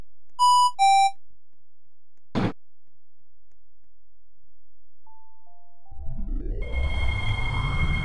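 A Harbour Line train door closing chime at a platform with screen doors: two clear descending electronic chime tones ring out, followed by a thump, a faint beep and then a rising mechanical whoosh of doors and a train moving off.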